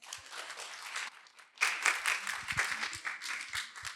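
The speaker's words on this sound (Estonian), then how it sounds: "Aplaus!" Audience applause at a pitching event in a hall, a dense burst of clapping that dips briefly and then swells louder for a few seconds.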